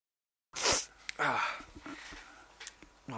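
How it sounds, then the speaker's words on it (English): A single loud sneeze bursts out after brief silence, followed by a soft sniff and breathy noises. "I'm going to sneeze."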